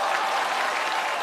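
Steady, dense applause from a studio audience fills the whole stretch, cheering a newly formed tribute band of Xie Jin and Li Hedong on a crosstalk comedy contest stage.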